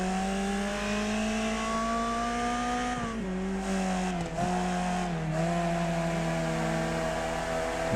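Race cars roar continuously in Wreckfest online racing, engines droning and shifting pitch together as the pack lifts and accelerates, loud and close throughout with no talk.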